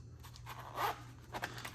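A zipper on a nylon polyester pouch is pulled in two quick, raspy strokes, close and quiet against a low steady hum.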